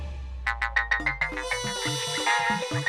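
A mobile phone ringtone plays loud and close, a quick series of bright repeated tones that settles into a looping melodic pattern, alone with no talk over it.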